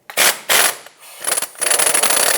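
Impact wrench with a 21mm socket working to loosen a bolt while replacing a steering rack boot on a 2014–2021 Mazda 6, heard as two short loud bursts followed by a longer continuous hammering rattle, close up with no speech.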